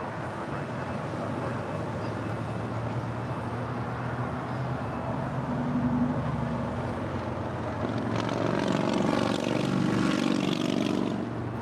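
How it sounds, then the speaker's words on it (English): A Boeing Dreamliner takes off at LAX, its jet roar a broad, steady rumble heard from a distance that swells gradually toward the end without any talk over it. "So that will be a Southside departure for the Dreamliner"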